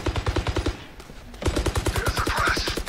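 Rapid automatic gunfire in Valorant, a dense close burst of shots that pauses briefly around the one-second mark, then resumes in a steady loud stream.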